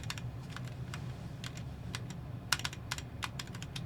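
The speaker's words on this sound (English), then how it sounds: "Yeah, so I'm pressing the arrow keys." Arrow keys on a computer keyboard are pressed in a series of quick, crisp clicks, some single and some in rapid pairs, close and fairly quiet over a low background hum, with no talking.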